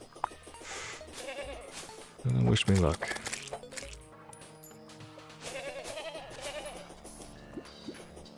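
A person briefly imitates a goat's bleat, a short loud wavering cry, between bits of speech and background music.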